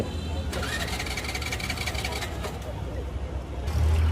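A motorcycle engine starts up and idles steadily after being refuelled in a traffic jam, with people talking loudly over it the whole time.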